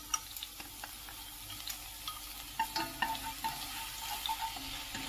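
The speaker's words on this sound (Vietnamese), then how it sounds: "Bây giờ tiếp theo mình cho hành tỏi ớt phần còn lại lúc nãy nè," Catfish braising in a pan with minced shallots, garlic and chili, giving a steady sizzle and frying crackle with occasional stirring scrapes, close and moderately loud, no talking.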